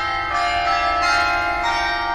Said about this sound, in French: Oh, le carillon, il m'a foutu les jetons.